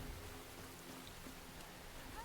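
Steady rain hisses evenly across a video game world, a dense, constant wash of falling drops with no clear breaks, at a moderate level.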